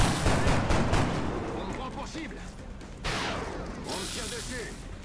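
Reaction-fire gunshots in XCOM: Enemy Within with the Long War mod ring out as sharp, broadband cracks in two clusters, one near the start and another about halfway through, over a busy layer of game noise.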